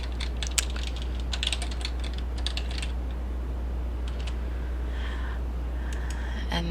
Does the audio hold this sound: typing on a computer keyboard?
yes